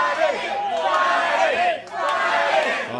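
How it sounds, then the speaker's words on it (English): A wrestling crowd at an independent show chanting in unison for a wrestler named Friday Night, rhythmic massed voices that rise and fall with a short dip midway. "And the crowd now chanting for Friday Night, Jerry"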